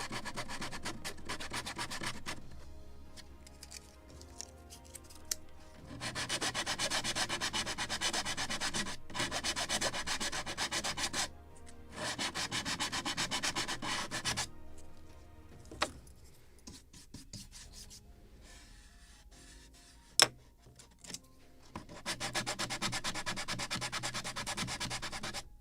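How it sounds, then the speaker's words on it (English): Sandpaper rubbed by hand along the edge of a wooden deck on a model of the 1776 gunboat Philadelphia, in long steady scratchy strokes broken by brief pauses, close and alone. "Now I will switch to 140 sandpaper."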